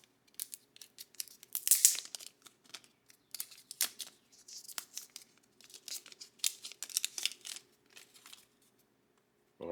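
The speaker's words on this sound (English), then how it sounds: "let's go ahead and take this plastic off" Plastic wrap is peeled and torn off an Asus ROG Cetra True Wireless ANC gaming headphones box, making close crinkling and crackling in irregular bursts with one sharper rip near the start.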